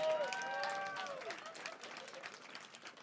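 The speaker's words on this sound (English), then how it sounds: "let's all give a round of applause to Joey Fay" Comedy club audience applauding a performer at a live stand-up show, a moderate, lively patter of clapping heard alongside a voice sliding in pitch, with talk mixed in.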